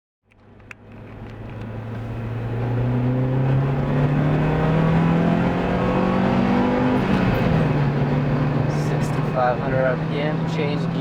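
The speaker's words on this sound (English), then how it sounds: "we're in my 2004 Honda Civic Si, or otherwise known as an EP3. So let's just kind of set off" A 2004 Honda Civic Si (EP3) pulls away, its engine note rising steadily as it accelerates and changes gear, heard loud and close from inside the cabin, with no talking.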